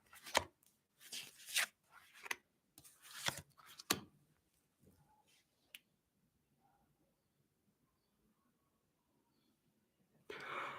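Tarot cards are shuffled on a towel in short, soft, papery bursts, about six riffles over four seconds, close and fairly quiet. A faint click follows, then near silence. A brief rustle closes the clip.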